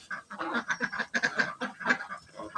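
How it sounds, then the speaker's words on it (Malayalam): A flock of ducks quacks repeatedly in quick, overlapping bursts, loud and close, with a busy, chattering rhythm. "ഒമ്പത് പാത്തയും ഇരുപത്തൊമ്പത് താറാവും"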